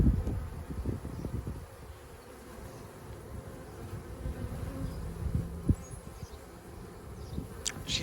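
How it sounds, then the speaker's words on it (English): A honeybee swarm drones and buzzes close by as the bees file into a hive box in a home beeyard, a continuous low hum with individual bees passing near, and no voices. "there's a pretty good flow of bees headed up that way now"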